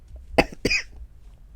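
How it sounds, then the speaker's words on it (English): Two sharp coughs in quick succession, close and fairly quiet, with nothing else around them. "I need to cough again"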